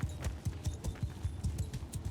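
Horse hoofbeats in Mount & Blade II: Bannerlord, a steady, rapid clip-clop of hooves pounding the ground at a gallop, fairly close and clear with no one talking.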